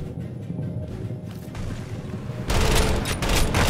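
A heavy-recoil gun fires in Totally Accurate Battlegrounds, with a dense burst of shots erupting loudly after a stretch of quieter rumbling game ambience.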